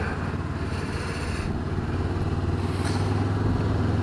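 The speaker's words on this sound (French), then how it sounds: "je fais l'essai de la Honda CB500X, le petit trail de chez Honda" A Honda CB500X small trail motorcycle runs close by with a steady, low engine hum that holds an even pitch throughout.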